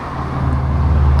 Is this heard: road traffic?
yes